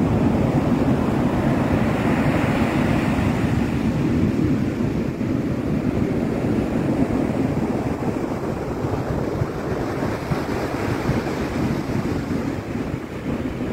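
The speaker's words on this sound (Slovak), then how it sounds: "Tam trošku posielame šum mora." Winter sea waves at Alanya on the Turkish coast make a continuous loud roar and wash, with wind buffeting the microphone throughout and no voices.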